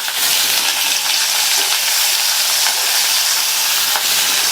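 Onion frying in hot oil in a pan with cumin and curry leaves for a potato fry, a loud, steady sizzle with occasional stirring, close and without talk.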